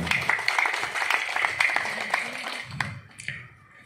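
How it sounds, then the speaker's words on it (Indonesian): Applause from a small audience at a community outreach gathering held by a PDIP parliament member in an RW neighbourhood, with scattered claps and a few sharp taps that thin out and fade toward the end. "tepuk tangan Darmadi Durianto"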